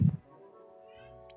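A cartoon cat in a Tom and Jerry video game gives a short, low meow, followed by soft, sustained game music tones.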